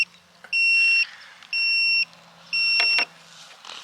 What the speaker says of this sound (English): hold that until it beeps